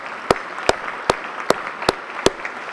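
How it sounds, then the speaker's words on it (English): An audience at a city State of the City address applauds, with steady, evenly spaced claps standing out over a continuous wash of crowd clapping. "Let's give them a round of applause."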